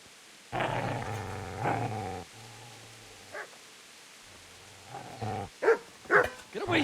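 Video game dog snarling and growling in bursts, with harsh barking and yips toward a man, set in Kingdom Come: Deliverance; close, loud, with quiet gaps between outbursts.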